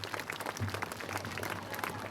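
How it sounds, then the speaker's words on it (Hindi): Faint, distant applause from an audience at a school centenary cultural programme, honoring the kindergarten children, with a low hum underneath throughout. "केजी क्लास के बच्चों के लिए एक बार जोरदार तालियां होनी चाहिए।"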